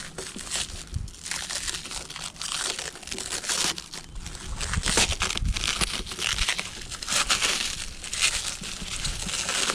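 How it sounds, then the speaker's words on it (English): Packaging around a pair of clear tail lights for an 8th-generation Honda Civic Si being unwrapped, with continuous close crinkling, crumpling and tearing of wrapping material and no talking. "We're gonna go ahead unwrap these."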